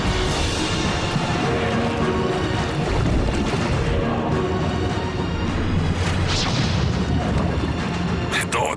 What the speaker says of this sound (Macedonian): Ова е пристаништето.